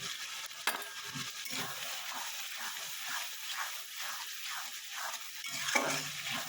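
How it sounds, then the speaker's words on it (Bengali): Turmeric, cumin and coriander powder frying with ginger in a pan, a soft steady sizzle broken by repeated stirring scrapes and a couple of sharp metallic taps, quiet and without talk. "দিয়ে একটু ভালো মতন ভেজে নেব, যাতে আদার কাঁচা গন্ধটা চলে যায়।"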